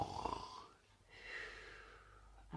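A storyteller's voice imitates a Gruffalo snoring, giving two or three soft, drawn-out snorting breaths close to the microphone during a quiet bedtime reading.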